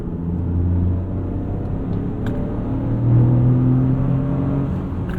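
A 2025 Toyota GR Corolla with all-wheel drive accelerates, its engine droning low and loud from inside the cabin, the pitch swelling and climbing as it pulls before easing back.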